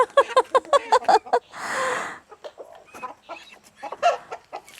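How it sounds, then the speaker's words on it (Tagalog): Chickens cluck in quick repeated bursts, with a brief rustling flurry partway through before the clucking resumes, close by and fairly loud. "Dami ni auntie manok eh. Dami niya manok."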